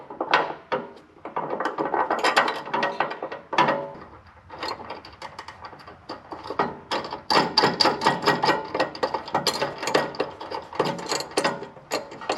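A ratchet clicks in repeated bursts as it tightens lock-washered nuts on the bolts of a running board being installed on a Chevrolet Silverado, loud and close with brief pauses between runs.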